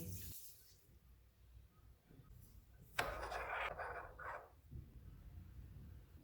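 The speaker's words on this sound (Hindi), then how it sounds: "मैंने 1 टेबल स्पून तुहम लंगा ली है, इसमें 1/3 कप पानी डालेंगे।" A third of a cup of water pours onto a tablespoon of basil seeds in a small container for a couple of seconds, a close splashing trickle against a quiet room hum.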